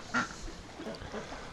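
A single brief quack from breeding ducks in strong winter wind stands out early, then faint calls follow under steady wind noise.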